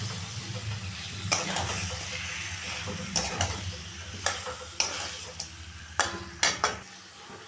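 Chicken stirred and frying with masala paste in a pan for chicken curry, a steady sizzle broken by several sharp scraping clanks of the spoon against the pan, close and moderately loud.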